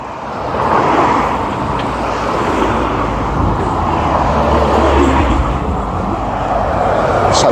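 Heavy road traffic on Castle Hill in Dudley, beside a new one-way system and tram works, makes a loud, continuous near roar of passing vehicles with no pauses.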